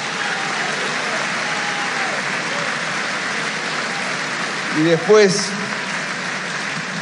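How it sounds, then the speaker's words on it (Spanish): A crowd applauds steadily at an election-night speech, the dense clapping holding at an even level throughout while a voice speaks briefly over it near the end. "Así que también un aplauso para todos ellos"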